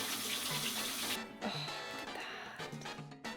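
Running tap water pours steadily into a sink while hands are washed under it, a continuous splashing hiss close by with small shifts in flow, no voices present.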